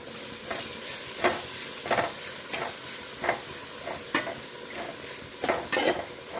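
Fried rice with grated carrot is stirred in a hot pan over a constant sizzle, with regular scraping strokes of the spoon against the metal every second or so, close and clear.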